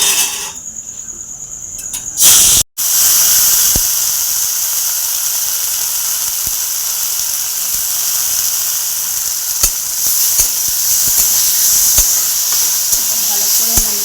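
Moong dal added to hot ghee with cardamom in a pan, a loud continuous hissing sizzle that bursts in abruptly and holds steady, with faint clicks of handling.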